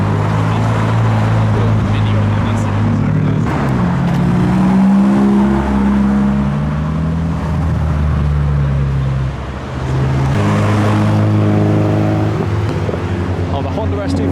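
Modified cars, including a Mini, an Evo and a Mark IV Golf, pull away from a Japanese car meet in Reading as police look on. Engines hum steadily and rev up, with voices talking over them.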